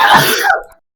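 A single sharp sneeze burst up close, loud and brief, trailing off quickly into silence.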